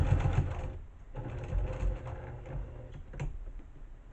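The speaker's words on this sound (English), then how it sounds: "Then we're going to stitch to the edge." A sewing machine stitches quilt binding in a steady mechanical whir, close and moderately loud, with faint clicks and no talking.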